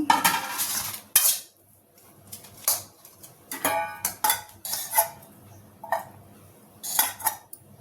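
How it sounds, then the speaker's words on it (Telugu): Utensils and steel lunch boxes clink and clatter in a home kitchen while lunch boxes are packed, a series of sharp close metallic knocks in irregular bursts with quiet gaps between. "ఈలోపు మనం బాక్సులు కట్టేసుకుందాం. బాక్స్ కట్టుకుందాం."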